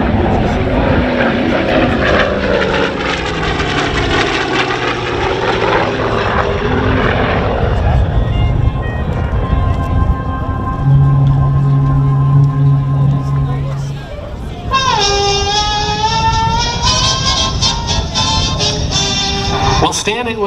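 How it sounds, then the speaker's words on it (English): An FG-1D Corsair vintage propeller warbird accelerates down the runway for takeoff at an air show in Vidalia, its loud radial engine roaring steadily and shifting in tone, with a voice speaking over the drone. "Now we're going to pick up a little speed, go right down the runway, pull out, do a photo pass"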